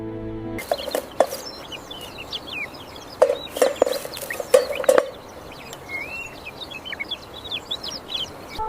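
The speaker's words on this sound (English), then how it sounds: "after the ducks are herded to the pasture outside" On a farm pasture, poultry calls ring out in scattered clucks and quacks against a steady outdoor hiss. Birds chirp in the background and several sharp knocks sound in the middle.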